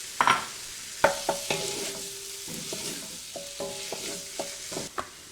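Garlic and pork sausage fry in a pot with a steady sizzle, punctuated by repeated metallic clinks and scrapes of a utensil against the pot.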